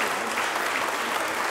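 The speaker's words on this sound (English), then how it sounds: "I think that calls for a round of applause." Audience applause at a conference session, a dense, steady wash of clapping from a crowd, loud and continuous with no talk over it.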